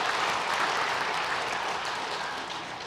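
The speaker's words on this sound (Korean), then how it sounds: "잠깐 자리에 일어나 인사하실 때 우리 박수로 환영하도록 하겠습니다." A church congregation claps to welcome new members during a Sunday worship service, with dense, steady applause filling the hall and tapering slightly toward the end.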